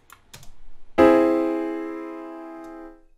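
One augmented chord sounds after a few light taps, its stacked tones sustaining and gradually decaying for about two seconds before cutting off.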